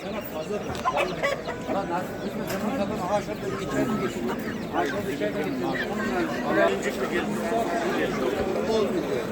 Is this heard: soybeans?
no